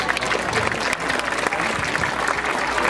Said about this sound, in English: round of applause one more time for these guys